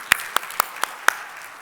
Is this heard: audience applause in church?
yes